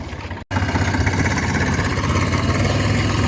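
A tractor engine runs steadily and close by on a farm, a low rumbling idle with constant vibration after a brief cut near the start, with no voices over it.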